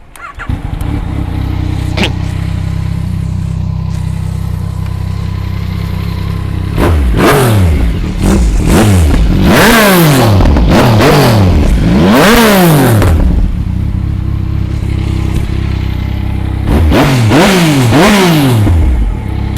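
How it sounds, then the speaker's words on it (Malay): A Yamaha Tracer GT 900 version 2 with a Yoshimura full-system exhaust idles steadily, then is revved hard in several sharp bursts, each rising and falling, with a final pair of revs near the end. It is loud and close, with no talking. "jom kita start tengok Yamaha Tracer GT 900 version 2 Yoshimura full system exhaust, bunyi dia macam mana"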